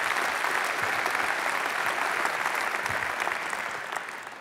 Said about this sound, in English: which I think deserves a huge round of applause for the people from SWIFT